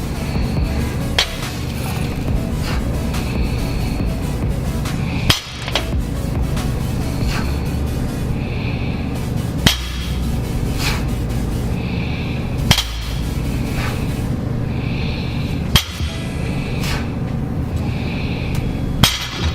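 A loaded barbell lands on the gym floor between deadlift reps, about six sharp separate thuds spaced several seconds apart, with quiet room noise in between.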